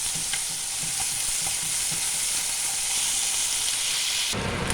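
Taro curry with puti fish is stirred and sautéed in a pan, a continuous loud sizzle broken by regular scraping strokes of the spoon.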